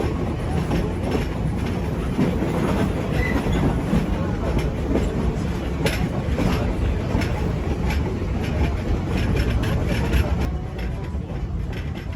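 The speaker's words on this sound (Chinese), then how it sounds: "列车即将抵达通洞站" The Watarase Keikoku Railway Torokko sightseeing train rumbles along as it slows toward Tsudo station, with dense continuous wheel and track noise and a steady clatter throughout, loud and close.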